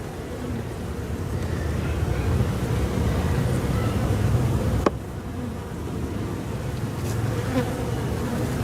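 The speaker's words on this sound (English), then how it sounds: "These bees all seem to be on the dark side on all these." Honeybees buzzing around a hive split, a dense continuous drone close by with a sharp click midway.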